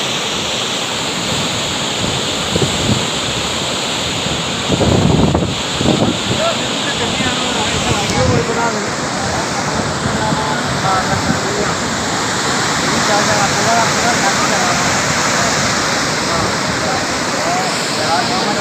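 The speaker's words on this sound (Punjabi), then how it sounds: "ਥੱਲੇ ਦੇਖ ਲਓ ਪੁਲ ਤੋਂ ਥੱਲੇ ਕਿੰਨਾ ਪਾਣੀ ਆ ਰਿਹਾ" Loud, steady roar of fast-rushing, rain-swollen flood water under the Chakki bridge in Himachal, a broad continuous wash of noise with brief bursts of louder turbulence, filling the whole scene.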